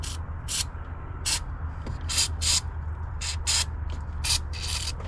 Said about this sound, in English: always spray plenty of WD-40 on it and just work it out.